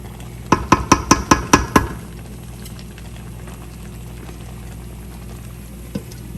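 Chickpea curry with chicken being stirred in a pot: a quick run of six or seven sharp clinks and scrapes of a spoon against the pot, followed by a quiet simmering bed and one faint knock near the end.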